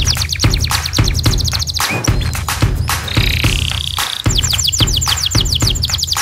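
A local canary sings loudly and close by, rapid bright trills and rolling chirps repeated in bursts over a steady low background rumble.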